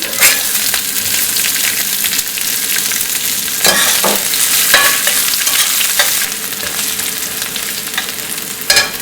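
Curry leaves and onion frying in a pan for Mumbai roadside Chinese bhel, with a loud continuous sizzle broken by occasional clinks and scrapes of stirring.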